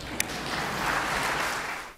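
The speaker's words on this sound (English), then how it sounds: "clap your hands" A crowd at a memorial gathering for a former Navy SEAL claps their hands, a dense, steady wash of applause that fades out near the end.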